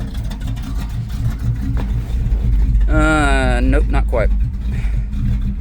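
A 1987 Chevy K5 Blazer truck engine with a tired oil pump idles steadily close by, a low continuous rumble while someone speaks briefly over it.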